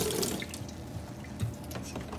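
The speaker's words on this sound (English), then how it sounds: "So go ahead and rinse off my cutting board so I have somewhere to work with for this." Water from a kitchen tap runs over a cutting board being rinsed, a steady close splashing flow with small knocks and shifts as the board moves under the stream.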